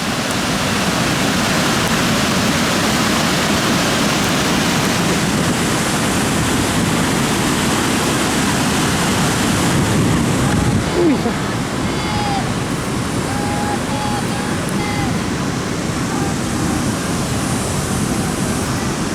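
Ban Gioc main waterfall on the Vietnam-China border roars as a steady, dense wash of falling water, close and loud throughout, with faint wind buffeting and brief bird-like chirps near the end.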